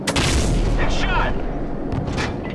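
A heavy cannon blast from the AC-130 gunship in Call of Duty 4, a deep booming report with rumbling low end that rolls on over continuous radio chatter and game noise.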